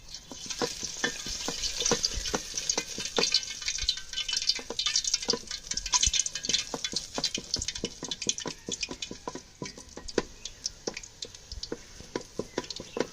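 Raw banana chanachur batter fries in hot oil, a bright crackling sizzle with rapid irregular pops and sputters throughout, close and moderately loud, with no talking.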